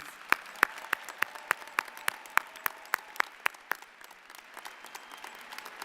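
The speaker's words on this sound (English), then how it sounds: "I think that we should give your support networks a round of applause." Scattered hand clapping from a small group at a university convocation, sharp distinct claps in an uneven rhythm that thin out and fade toward the end.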